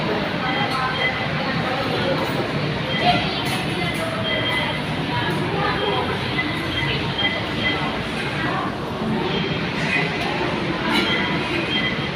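An MRT metro train rumbles along between Quezon Avenue and North Avenue stations with a steady, loud roar of wheels and rails, squeals and clatter running continuously, voices faint beneath.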